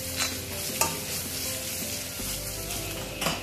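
Potatoes frying with two chillies in a pan of hot oil for an Assamese duck fry, a steady close sizzle broken by scraping stirs at irregular intervals, with no talk.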